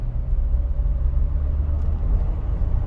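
Tank 300 HEV hybrid 4x4 accelerating in normal mode, heard from inside as a steady low engine and road rumble with a faint motor hum, no voices.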